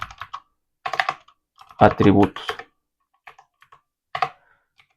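Keys clatter on a computer keyboard in short bursts of clicks, close and fairly loud, interrupted by a brief spoken word midway.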